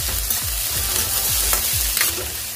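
Ginger, garlic and onion frying in oil for Manchurian, with a steady close sizzle and a few soft, rhythmic stirring scrapes and no voices.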